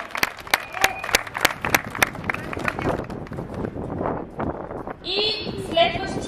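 Audience applause for truck drivers at a Scania driver competition in Bulgaria, 2014: sharp, uneven claps close to the microphone, with an announcer's voice speaking over the end.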